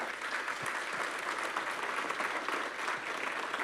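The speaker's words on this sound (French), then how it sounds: "le tout sous vos applaudissements nourris" Steady audience applause in a hall, greeting EDF CEO Bernard Fontana at the start of an interview event, with dense even clapping sustained throughout.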